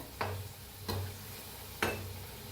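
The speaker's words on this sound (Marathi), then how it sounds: "घालताच वर यायला लागलेत, मस्त आहेत पकोडे एकदम। तळून घेऊया अंदर चांगलं।" Pakoras deep-fry in oil with a soft, steady bubbling sizzle, punctuated by three sharp clinks of a utensil against the pan at roughly even intervals.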